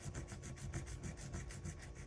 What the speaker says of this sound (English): So what we're doing here is I noticed them, and I'm just sanding this off.